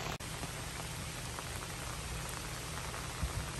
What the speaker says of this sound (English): It's our last day camping and it's raining again.